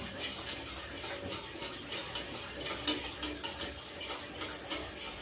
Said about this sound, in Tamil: சிரம பார்க்காம கிண்டிகிட்டே இருங்க.